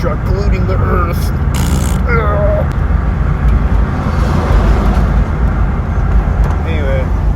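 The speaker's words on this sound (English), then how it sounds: "Garbage truck polluting the earth." A garbage truck drives past on a busy road, its steady engine rumble and broadband traffic roar running continuously and loud, with a voice talking over it and brief higher squeals and tones cutting in.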